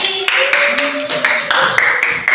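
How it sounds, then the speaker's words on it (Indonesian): A classroom of children clap for a student, a loose run of sharp individual claps in uneven rhythm, close by, with voices sounding over them. "Silakan tepuk tangan untuk Buntung"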